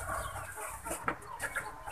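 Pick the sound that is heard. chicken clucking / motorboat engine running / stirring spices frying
chicken clucking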